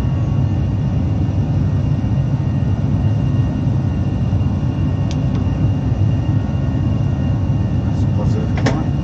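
Airplane engines roar steadily through the takeoff climb, a dense continuous low drone heard from inside the aircraft, with a few faint clicks near the end.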